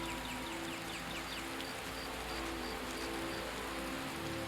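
Early morning rain falling over Riverwood in Skyrim, a constant close patter and hiss of drops on surfaces, dense and unchanging throughout with no speech.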